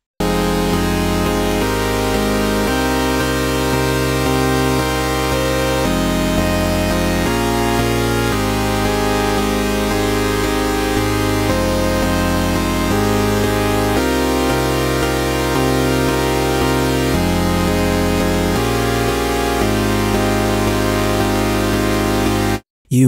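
Synthwave chords programmed from MIDI and played on a Vital software synthesizer, a steady, dense, sustained chord progression holding the same loud level for about 23 seconds with no voice over it.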